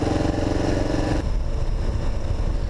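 Kawasaki KLR650 dual sport motorcycle climbing a mountain logging road in the Oregon Coast Range, its single engine thrumming loud and close with steady pulsing and wind, the pitch dropping slightly partway through.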